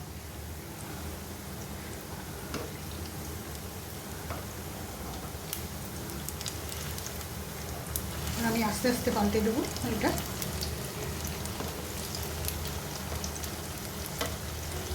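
Malpoa frying in hot oil, a steady broadband sizzle throughout that swells louder midway, with a person talking over it.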